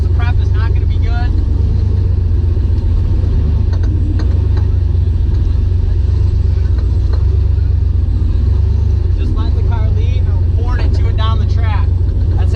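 A street-driven turbocharged Fox Body Mustang makes a drag strip pass, its engine a loud, continuous low roar. A voice talks over the engine noise throughout.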